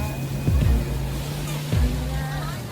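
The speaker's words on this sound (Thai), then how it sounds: "นอนฟังคลื่น" Ocean waves washing onto a beach at Cha-am, Thailand, a continuous broadband rush with a couple of low thumping surges as the surf breaks nearby.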